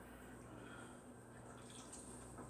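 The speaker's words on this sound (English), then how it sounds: "And now I need to add some water in here" Water is poured into a hot pan of chicken Marsala, a faint steady trickle and splash over low kitchen background hum, brief and quiet.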